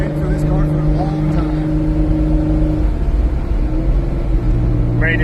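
A boosted 1990s Honda NSX V6 engine runs nearby with a steady droning hum and rumbling low end, its pitch shifting as it revs, loud and close, with brief voices at the start.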